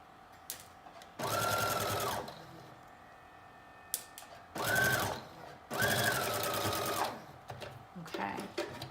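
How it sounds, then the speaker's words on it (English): A sewing machine runs a straight stitch along the back seam of a knit dress neckband, whirring steadily in three close bursts of about a second or more each, separated by quiet pauses and a few light clicks. "we're gonna sew the back seam of the neckband, and I'm just sewing a straight stitch"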